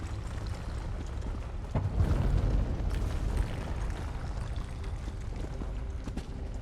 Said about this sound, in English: Everyone will have felt that explosion, I reckon.